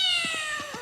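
A cat in an animated film gives a short series of about four quick, clear meows in close succession, up front with no talking.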